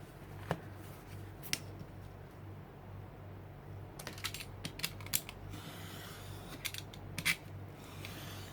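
Scissors trim the edges of handmade journal pages, a quiet series of close, crisp snips in small clusters over a low background hum.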